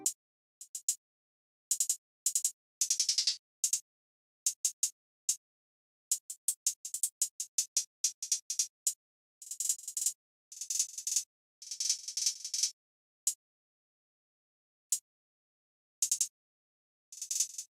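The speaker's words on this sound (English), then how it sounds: "the first thing I did was laying down this pretty complex hi-hat pattern" A dense, rapid hi-hat pattern: crisp, bright ticks in quick rolls and bursts with irregular gaps, played alone with no voice.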